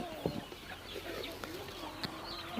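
Native Siruvidai country chickens on a poultry farm give faint, scattered clucks over steady background noise, with a few short, sharper calls.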